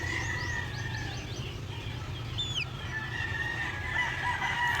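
Chickens in a double-deck chick cage cluck and crow, with high chirps and a rooster-like call over a steady low hum, moderately close and fairly quiet overall.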